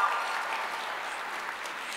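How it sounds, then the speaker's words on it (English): Audience applause at a Sailor Moon panel at Anime NYC 2017 in the Javits Center, a steady wash of distant crowd clapping that holds evenly for about two seconds and fades slightly toward the end. "let's give a big round of applause to our Javits Center staff."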